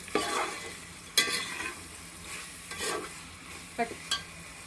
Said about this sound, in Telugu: ఇది అడుగు పట్టకుండా కొంచెం ఇలాగే కలుపుకుంటూ ఉండాలి.